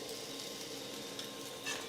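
Roti cooking in a pan with oil added on both sides gives a soft, steady sizzle with faint stirring and scraping, quiet and continuous, close by, with no voices.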